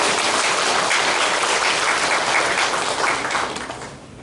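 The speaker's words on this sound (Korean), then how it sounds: "박수 한번 부탁드리겠습니다" A congregation at a Sunday worship service in a Pyeongtaek family church gives a full, dense round of applause. The clapping stays even, then tapers off near the end.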